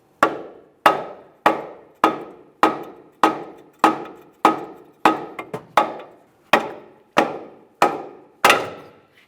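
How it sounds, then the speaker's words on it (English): A hammer lightly taps the lower control arm of a 2008-2017 Mitsubishi Lancer to drive out the ball joint: about fourteen sharp metallic strikes at an even pace, close and alone, with a quick double tap midway. "I'll lightly tap on the lower control arm, driving that ball joint out of position"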